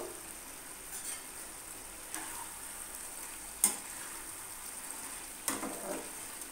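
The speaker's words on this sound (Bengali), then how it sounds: "খুন্তি দিয়ে একটু নাড়াচাড়া করে নেব।" Crab curry stirred with a spatula in a frying pan on the stove, a soft continuous sizzle broken by a few sharp scraping strokes of the spatula against the pan, with no talking.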